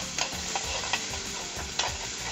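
Chopped garlic and ginger sizzle in hot oil with cumin, a close, quiet crackle of frying with a few soft stirring clicks scattered through, no voices.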